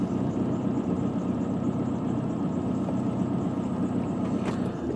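A BMW 320d E90/E91 diesel engine with suspected glow plug trouble runs rough and lumpy just after starting, a steady close low throbbing drone with no talk.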